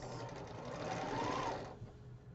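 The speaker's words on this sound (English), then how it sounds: "So let's sew this block together." A sewing machine stitches a quilt block in one continuous whirring run close to the mic, then stops near the end, with no talking.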